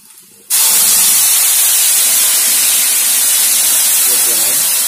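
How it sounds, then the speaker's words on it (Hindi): Sliced onion hits hot oil in a pan for an Indian-style cabbage dish seasoned with kasuri methi, setting off a sudden loud, steady sizzling hiss after a brief quiet moment, continuing strongly to the end. "अब इसमें डालेंगे हम ये प्याज"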